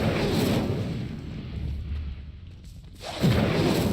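The Incendio fire spell is cast in Hogwarts Legacy: a loud, rushing whoosh of flame that swells, fades into a low rumble, then flares again in a second burst.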